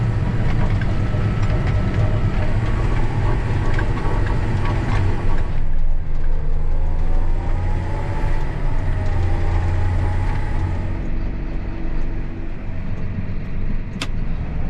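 A new John Deere 7920 tractor on dual wheels cruises at 26 mph and 1,500 RPM while hauling manure, a smooth, constant low drone with cab noise that shifts tone partway through, ending in one sharp click.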